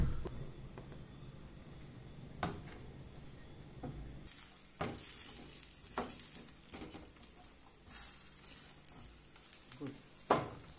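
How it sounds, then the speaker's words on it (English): Quiet sizzle of food sauteing in oil in a pan, a soft steady hiss broken by occasional sharp clicks and scrapes of stirring. "All right, let's saute."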